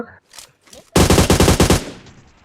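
Automatic gunfire in a video game, a loud rapid burst of about eight shots that cuts in after some brief faint talk and then trails off into a fading echo.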